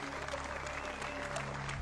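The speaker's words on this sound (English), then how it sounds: "Please give a big round of applause" Studio audience applause at the Who Wants to Be a Millionaire? quiz show, a steady, moderately quiet wash of clapping with a faint tonal music bed underneath.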